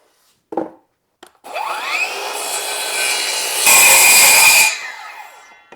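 A saw cuts a wooden board at a 45-degree setting for a DIY golf pressure board: a brief knock, then a loud, steady cut lasting about four seconds that grows harsher near the end before winding down, with no talking.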